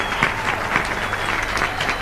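A church congregation applauds steadily at a service in Monte Santo, Argentina, a dense wash of many hands clapping at even loudness throughout.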